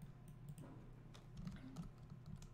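Computer keyboard keys pressed while editing in Blender 2.8, a few scattered clicks over a low steady hum, quiet and close.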